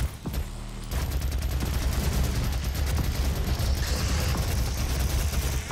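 Rapid, dense automatic gunfire from the chaingun in Doom, a continuous mechanical rattling burst that stays loud and close for several seconds with no talking.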